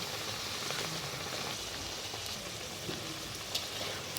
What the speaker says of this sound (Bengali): দেখতেই পাচ্ছ আমার লুচিগুলো একদম বলের মতো ফুলে উঠছে। এইভাবেই আমি সবগুলো ভেজে নেব।